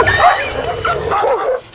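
A dog yelps and whimpers in pain after a snake spits venom into its eyes, with high, wavering cries repeating in short bursts over a noisy outdoor background.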